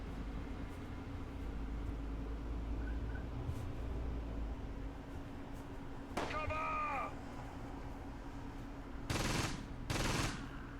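Gunfire from an ambush in the Close Combat wargame: faint scattered shots break through a steady low hum, followed by two louder bursts of rapid automatic fire near the end.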